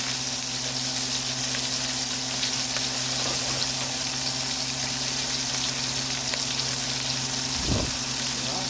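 Oxtail pieces sear in a hot frying pan with a steady, loud, continuous sizzle and crackle, close up and without voices throughout.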